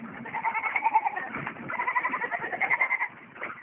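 A donkey on a farm gives a run of close, nasal, bleating calls in uneven pulses that rise and fall across several seconds, heard alone without talk.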